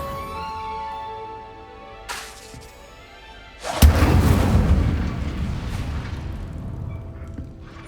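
A fire spell cast at targets in the Hogwarts Legacy video game erupts as a sudden loud burst near the middle, then rolls into a sustained, roaring blaze. A smaller thump comes earlier.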